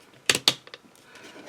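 Ratcheted arm joints of an action figure being moved, two sharp close clicks in quick succession followed by a couple of softer ticks, then faint handling noise.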